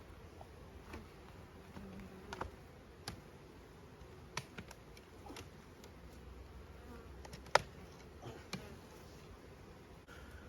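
Honey bees buzzing steadily around a hive as it is lifted and moved outdoors, a continuous low drone with scattered sharp clicks and knocks from handling the hive boxes, no talking.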